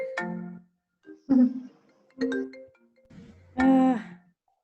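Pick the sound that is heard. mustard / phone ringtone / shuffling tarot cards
phone ringtone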